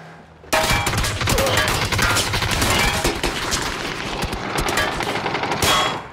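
Automatic gunfire in the shooter game PUBG starts abruptly and continues as dense, loud bursts with rapid shots that overlap and run almost without a break.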